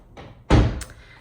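A flat, standard interior door in a new-construction home in Peoria, Arizona swings shut with a soft brush followed by a solid, close thud and a brief latch click.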